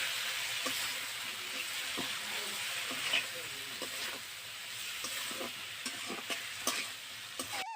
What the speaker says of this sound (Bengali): এখন আমি আবারও মশলার সাথে সজনে ডাঁটার আলুগুলো কিছুক্ষণ নেড়ে নেব।